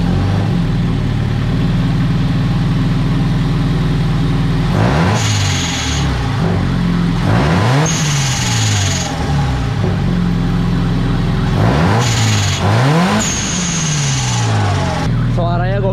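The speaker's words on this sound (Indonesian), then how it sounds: "gue denger ada suara blow valve nih" Supercharged Toyota GT86 Rocket Bunny engine revving repeatedly in short bursts, each rise followed by a sharp high whistle as the blow-off valve vents, loud and close over steady idle, with voices talking briefly.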